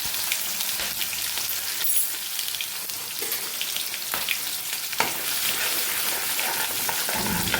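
Ginger, green chili and garlic paste sautés in hot oil with cumin over a low flame. A dense, steady sizzle rises into busy crackling pops, and a few sharper spatters break through.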